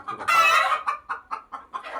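Native chickens on a farm cluck loudly and close by, one long squawking cackle followed by a steady rhythm of short, repeated clucks.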